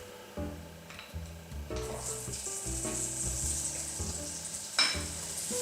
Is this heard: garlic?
yes